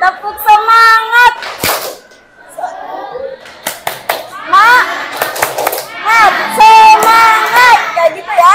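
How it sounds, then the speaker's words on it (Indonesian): A class of children performs a rhythmic spirit clap (tepuk semangat), short bursts of clapping alternating with a teacher's voice and children chanting in chorus, loud and close in a classroom. "Kita cukup melakukan tepuk semangat."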